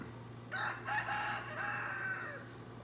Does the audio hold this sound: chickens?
yes